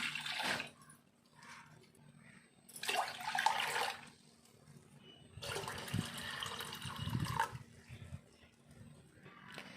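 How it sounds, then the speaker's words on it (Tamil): One litre of water pours into a pot in three separate splashy bursts, quiet and close, with short pauses between the pours. "ஒரு பாத்திரம் எடுத்துருக்குறேன் இதில் ஒரு லிட்டர் தண்ணி ஊற்றிக்கலாம்"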